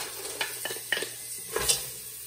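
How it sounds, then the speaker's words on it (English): Onions and garlic being stirred into a roux in a pot for seafood gumbo, with a low sizzle and several distinct spoon scrapes and knocks, close and fairly clear. "And we're going to stir that into the roux."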